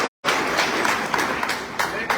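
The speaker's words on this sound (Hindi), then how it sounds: "उन सब के लिए तालियां जो है बजानी।" A crowd applauding loudly at a political rally in India, dense steady clapping that starts abruptly after a brief silence and continues without letting up.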